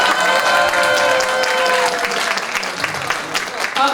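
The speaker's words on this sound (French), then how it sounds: "On l'applaudit" Audience at an improv cabaret show breaks into sustained applause, a dense wash of clapping that stays loud for several seconds, with whistles or cheers rising over it early on.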